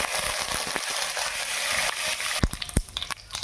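Mustard seeds, asafoetida, carom seeds, sesame and curry leaves sizzling in hot oil for a tempering, a loud close hiss with sharp pops and crackles toward the end, no voices.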